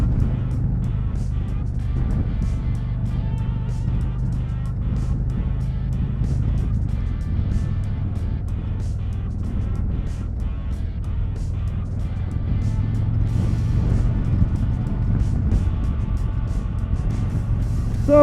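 A 2022 Harley-Davidson Road Glide ST motorcycle being ridden, its engine a steady low rumble with road and wind noise throughout, fairly loud and continuous with slight swells in intensity.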